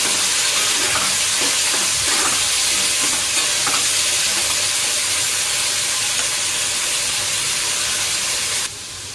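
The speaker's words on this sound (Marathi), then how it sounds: "तर मग ही आता मी सर्व फ्राय करून घेते." Prawns fry in a hot pan with a loud, steady sizzle that runs continuously for several seconds, stirring scrapes underneath, then drops off slightly near the end.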